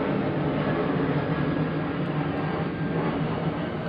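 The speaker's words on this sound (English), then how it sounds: "We have a plane going over outside," A plane passing overhead outdoors, heard as a steady, broad low rumble that holds at an even loudness without a clear rise or fall.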